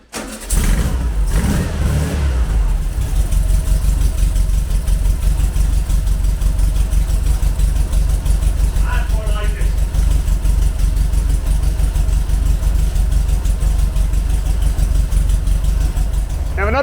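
A Volkswagen Beetle's air-cooled engine runs steadily near the microphone for the whole stretch, with a burst of revving at the start and continuous loud engine rumble after, while the alternator rubs on the fan shroud.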